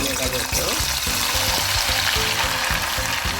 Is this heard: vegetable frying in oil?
yes